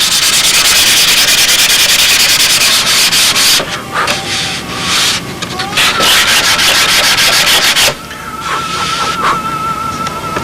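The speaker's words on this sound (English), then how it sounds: "Now I can get the outside sanded while it's in this position a little bit easier before I start dressing it off." Continuous loud abrasive rubbing of sandpaper on a wooden Spitfire model part, steady strokes filling the whole stretch with brief shifts in pitch, close up and with no talking.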